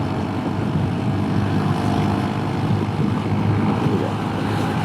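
A vintage scooter on a long-distance cannonball rally rides up, its engine a steady, fairly loud drone that holds throughout with no talking.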